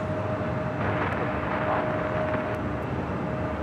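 Airliner taking off from runway 25 right, a loud, steady, broad jet engine roar held throughout with a faint tonal whine, no speech.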